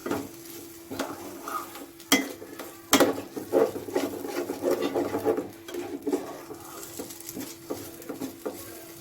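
Fresh cream cooking in a pan for mushroom curry sizzles steadily beneath repeated spoon scrapes and metallic knocks against the pan, with a couple of sharp clanks early on, all heard close up.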